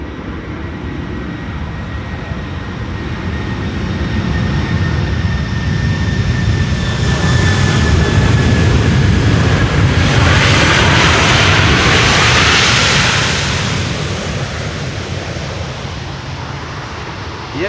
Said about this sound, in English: Delta Airlines flight 74, A330-300, 8 hours and 8 minutes on the way. Will it use the reversers and get loud?